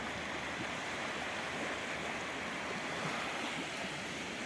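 Waves washing steadily against a shore with ducks approaching across the water, a continuous broadband wash of surf and wind with no pauses and no voices.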